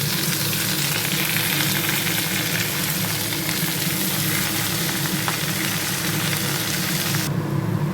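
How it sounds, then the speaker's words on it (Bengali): Chopped red amaranth greens frying with onion, chilli and garlic give a dense, loud, continuous sizzle with faint stirring, close up, cutting off sharply near the end, and no voices. "এবারে এতে দিয়ে দেবো কুচানো লাল শাকটা"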